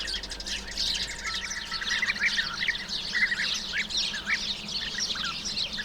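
A bee-eater colony calling at a riverbed nesting site in Anatolia, with many overlapping chirps and trills that run steadily at moderate distance over a low background hum.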